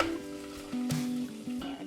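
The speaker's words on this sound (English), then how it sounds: "Ooh, we are frying up." Cumberland sausage patties, made without casings, fry quietly in a pan as the fat renders, giving a soft low sizzle with a few faint clinks of the pan or utensil, close and gentle.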